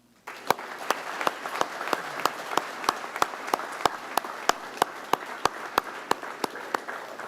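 An audience applauds at a graduation ceremony: a wash of crowd clapping with one sharp, loud clap standing out at a steady, evenly spaced beat, sustained for several seconds in a large room.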